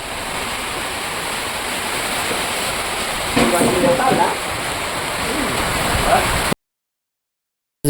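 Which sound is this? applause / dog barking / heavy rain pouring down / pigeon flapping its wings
heavy rain pouring down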